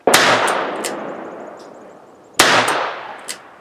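Two sharp shots ring out from a Clone Wars Old Western .22 LR revolver at an outdoor range, spaced a couple of seconds apart, each a loud crack with a short ringing decay.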